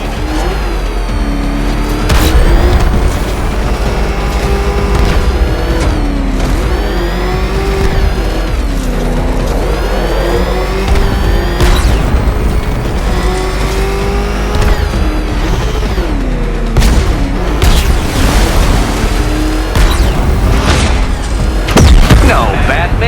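A car engine drives in Batman: Arkham Knight, a loud roar that keeps rising and falling in revs, with heavy booms and impacts, a music bed and intermittent speech.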